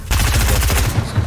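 Rapid automatic gunfire in the Fortnite video game, a fast rattling burst of close, loud shots that runs through nearly the whole moment with no talk over it.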